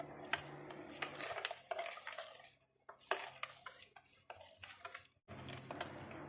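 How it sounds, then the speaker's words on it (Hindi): A spoon stirs potato and onion raita seasoned with black pepper in a bowl, giving close, repeated scraping and clinking strokes in quick bursts with brief pauses between them. "अब चम्मच के साथ मिक्स कर लेती हूँ।"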